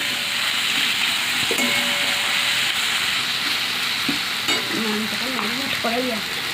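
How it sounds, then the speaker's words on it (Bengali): Onions fry in a pan ahead of marinated chicken going in, a loud, steady, close sizzle that runs unbroken throughout, with a few faint tonal sounds drifting in near the end. "পেঁয়াজটা ভালো করে আগে ভেজে নিচ্ছি"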